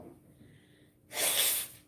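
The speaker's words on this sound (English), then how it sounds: "I got to sneeze, guys." After a quiet breathy lead-in, a single sharp, hissing sneeze bursts out close up, loud and brief.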